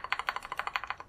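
Backspace key on a custom-built mechanical keyboard pressed repeatedly close to the mic, a quick run of about a dozen crisp, evenly spaced clacks with no talking.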